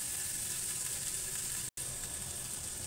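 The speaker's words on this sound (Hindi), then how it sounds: "अच्छे से हमारे क्या प्याज इस तरीके से भून चुका है" Onion sizzling steadily in hot oil for a Hindi-style besan gatte curry, a loud dense frying hiss throughout with a momentary dropout near the end, no talk.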